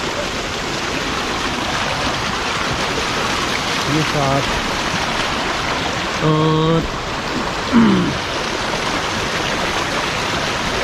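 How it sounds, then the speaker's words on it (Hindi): A mountain stream in the Kailash Valley rushes in a steady, loud broadband wash close by, with brief speech and a few faint tonal calls over the flow. "ये पानी की एक स्ट्रीम चल रही है, बड़ा ही प्यारा शोर इसका पानी का"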